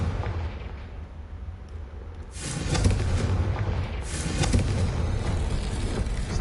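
The Confringo blasting spell detonates in Hogwarts Legacy, a loud rumbling explosion that erupts midway over a low ambient hum, followed by a second booming burst and lingering roar.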